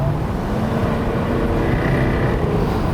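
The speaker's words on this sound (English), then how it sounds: "you also get a bit more supercharger whine come through" Jaguar F-Type Project 7 supercharged roadster cruising with its exhaust in the quieter setting, a steady close engine drone and faint supercharger whine running evenly throughout.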